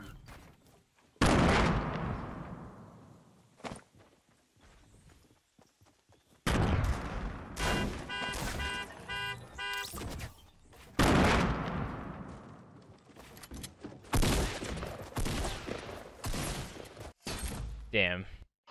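Bursts of Fortnite gunfire crack sharply in several loud volleys separated by quieter gaps, with rapid shots and impacts, while a player talks between and over them.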